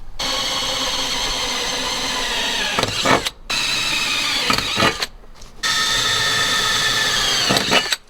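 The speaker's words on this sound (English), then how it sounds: "now I can go ahead and drill the bottom on my center punches" A power drill whines steadily in three long bursts with short pauses between, loud and close, drilling holes through a Subaru WRX floor for a roll bar, the pitch dipping slightly as each burst ends.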